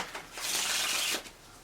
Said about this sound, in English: we are going to riffle shuffle, making sure their card is not seen